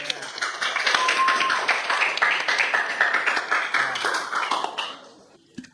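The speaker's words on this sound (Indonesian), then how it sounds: "Beri aplaus kepada kelompok 4." An audience in a classroom session claps for a group, a dense, lively round of applause sustained for several seconds before tapering off, ending with a single sharp knock.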